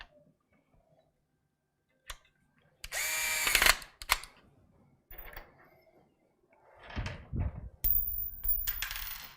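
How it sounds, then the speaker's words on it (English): A power screwdriver driving screws into a Thermaltake AH T200 gaming PC case: short bursts of whirring motor, each a second or so long and separated by pauses, with small metallic clicks and clatter between, close and fairly loud. "we'll go ahead and put the other 4 screws in"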